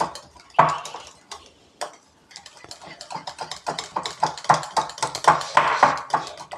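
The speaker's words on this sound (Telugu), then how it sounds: "అలా అది వచ్చే వరకు ఈ విధంగానే బీట్ చేసుకోవాలి" A utensil beats eggless cake batter in a bowl with quick, rhythmic clinking and scraping strokes that speed up and grow louder, after a few scattered taps at the start.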